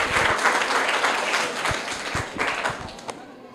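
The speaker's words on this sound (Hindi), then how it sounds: "नेहा प्रसाद जो कि हमारी थर्ड विजेता है, इनके लिए भी जोरदार तालियां हो जाए।" Loud, dense applause from a school audience for child prize winners, with a few sharper individual claps and thumps standing out before it gradually thins.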